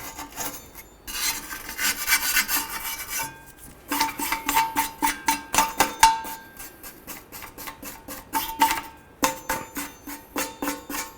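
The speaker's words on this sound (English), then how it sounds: "I'm continuing with my brush." A wire brush scrubs brake dust and crud from the rear brake area of a 2006–2018 Jeep Wrangler, giving close, rhythmic scratching strokes in fast bursts separated by short pauses, with no talk.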